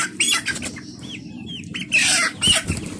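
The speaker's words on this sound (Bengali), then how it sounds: "আমি আবার নতুন করে কিছু মুরগি নিয়ে আসছি, 30টা মুরগি নিয়ে আসছি।" Chickens on a poultry farm cluck and squawk close by in short, irregular bursts, with a few rising chirps between louder calls over quiet background rustling.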